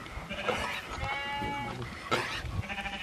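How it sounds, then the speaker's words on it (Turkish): Sheep and lambs bleat on a Turkish farm guarded by Kangal dogs. Several wavering calls overlap at moderate distance against rustling outdoor background noise. "Burada kuzular var, koyunlar var."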